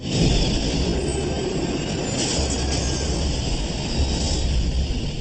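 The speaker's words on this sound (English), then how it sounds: "A Boeing MD-87 cuts through the morning fog." A Boeing MD-87 jet airliner roars steadily overhead in morning fog, a loud, continuous broadband rumble with a high whine, no voices.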